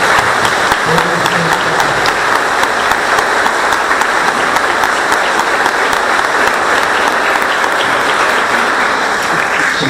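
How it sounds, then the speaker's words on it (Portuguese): Loud, sustained applause from a church congregation at a Catholic confirmation ceremony, thanking the young confirmation candidates; dense clapping fills the hall steadily throughout without a break. "Vamos agradecer os jovens com uma salva de palmas."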